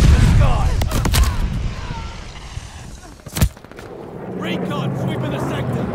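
Call of Duty: Vanguard gunfire aimed skyward, a few sharp shots early, then a single loud blast midway, with game voices and background battle noise throughout.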